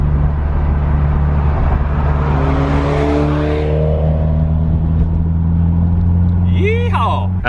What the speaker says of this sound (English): Alan's MR2 sounds freaking sweet with that new exhaust.